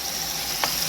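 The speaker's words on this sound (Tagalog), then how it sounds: "gusto ko munang iprito-prito yung kanyang buto-buto kasi medyo may taba" Beef ribs fry in their own fat in a pan, giving a steady, loud, hissing sizzle throughout with one brief sharper crackle, and no voices.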